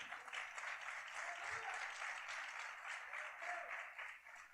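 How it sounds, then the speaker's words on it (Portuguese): A church congregation claps together during a sermon, a sustained wash of applause heard at some distance, fairly soft and even throughout with no voices on top. "Aplauda o Senhor por isso."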